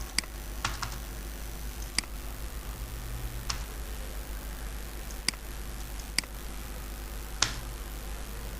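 Sparse, isolated keyboard clicks, maybe a single keystroke every second or so, sharp and close against a steady low hum.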